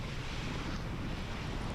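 Wind blows over rough white-capped ocean water off the Big Island of Hawaii during fishing, a steady, loud broadband roar of gusts and surf that fills the whole clip without letup.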